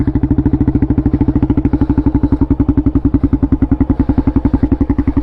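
An off-road quad ATV engine runs close up, with a loud, rapid, even thumping pulse and a deep throbbing drone that hold steady throughout.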